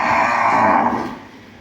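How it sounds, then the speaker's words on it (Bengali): A Qurbani cow bought at a market gives one long, loud moo close by, trailing off after about a second. "এটা আমার কোরবানির গরু।"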